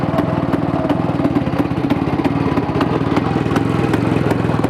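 A motorcycle engine idles steadily and evenly up close, its rapid regular pulsing throb running without a break, with light mechanical clatter on top and no talking.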